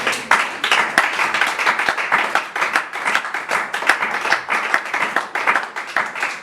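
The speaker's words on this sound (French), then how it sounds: "On acclame le Seigneur." A church congregation claps and applauds in praise of the Lord, dense steady clapping from many hands filling the room, loud and sustained with some voices mixed in.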